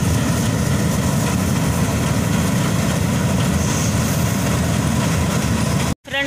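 A tractor powering a paddy harvesting and threshing machine runs loud and close, a continuous rumbling engine drone with a rough mechanical roar that stays constant until it cuts out abruptly near the end.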